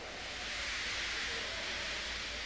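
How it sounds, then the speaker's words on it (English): A wooden toy railway steam engine lets off a long, steady, breathy hiss of steam at moderate loudness, with no voices over it. "He just let off steam feebly."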